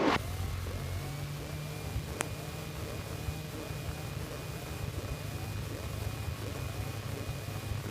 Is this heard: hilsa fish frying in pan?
no